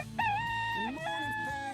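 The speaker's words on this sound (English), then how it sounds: "that little rooster on his behalf" Little rooster's crow played as a short sound effect, a single loud cock-a-doodle-doo with a rising then falling call, heard alone and close.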